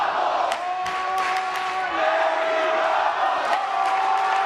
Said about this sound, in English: you hear the crowd chanting Eddie Bravo.